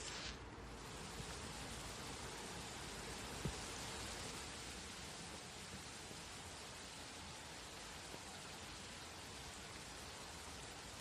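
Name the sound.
water sprinklers spraying on a golf course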